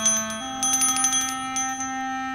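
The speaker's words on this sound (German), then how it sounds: "muss er mit der Klingel Eintritt erbitten." A bell rings steadily and clearly at close range with a sustained, ringing tone and no voices.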